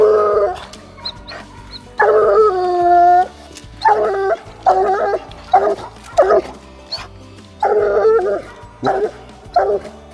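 Two hunting dogs bark and howl close by at night, loud repeated bays and yelps in rapid bursts with drawn-out howls in between.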